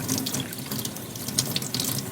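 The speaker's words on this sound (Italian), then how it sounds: "Acciughe sotto il rubinetto, sempre con l'acqua" Water runs steadily from a kitchen tap while salted anchovies are rinsed and cleaned under it, a continuous close splashing hiss with small irregular spatters and no talking.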